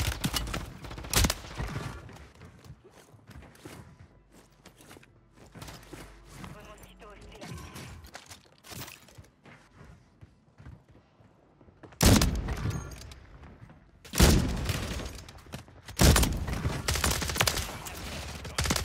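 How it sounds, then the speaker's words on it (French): Warzone gunfire bursts sharply in loud volleys, with a shot early on and heavy rapid fire later, mixed with clanking mechanisms and quieter stretches in between. "On me tire, on me tire!"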